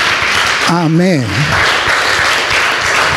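A church congregation claps in a steady, dense wash of applause during a worship service, with a single voice speaking briefly near the start over the clapping.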